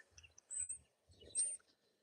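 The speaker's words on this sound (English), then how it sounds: "Birds singing." Birds chirp and tweet outdoors during a Saturday morning stroll, with short, faint, scattered calls and brief high whistles at a moderate distance.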